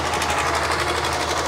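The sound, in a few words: fishing trawler engine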